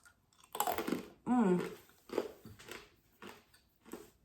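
Caramelized almonds being bitten and chewed close up, a series of crisp crunches in irregular bursts with a louder bite near the middle, faint and without speech.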